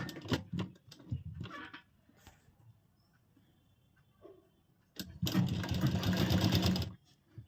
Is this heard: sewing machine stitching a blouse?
yes